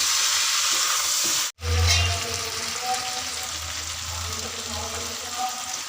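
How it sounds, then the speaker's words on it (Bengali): Steady frying hiss cuts out abruptly, then a mixed slurry of cornflour, Maggi seasoning, tomato sauce and soy sauce hits the hot pan, bringing a low bubbling surge that settles into a softer, continuous sizzle. "এবার আমি কর্নফ্লাওয়ার, ম্যাগি, টমেটো সস আর সয়া সস একসাথে গুলে রেখেছিলাম, সেটা ঢেলে দিলাম।"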